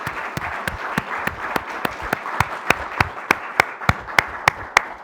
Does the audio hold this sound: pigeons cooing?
no